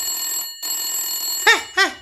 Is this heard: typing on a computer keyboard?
no